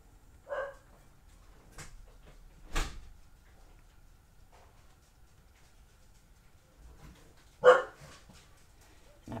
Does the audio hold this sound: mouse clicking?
no